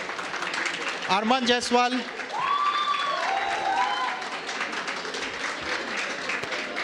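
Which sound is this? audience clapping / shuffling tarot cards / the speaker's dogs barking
audience clapping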